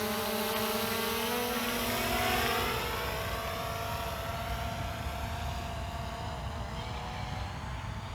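An Attop W80 drone flies over a Southern California baseball park, its propellers a thin, steady buzzing drone that swells briefly and then holds at a distance, with no voices.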